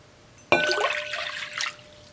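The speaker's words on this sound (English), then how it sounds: "I've got 2 large glasses of water that I'm putting right in" Water from a large glass pours into a bowl in a quiet room with a sudden splash, then a steady close gurgling stream, ending with a brief final splash.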